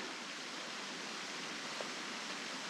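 A waterfall below a mountain lake in the Wild Sky Wilderness sends out a steady, even rushing roar that fills the whole clip without pause, fairly faint and distant, with no voices.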